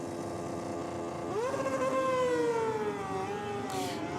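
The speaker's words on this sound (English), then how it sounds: "Lots of RPM for that R6" Yamaha R6 motorcycle on a drag strip at Sydney Dragway, a modified bike screaming at high RPM from some distance, its whine rising sharply then sliding down as it shifts and pulls away.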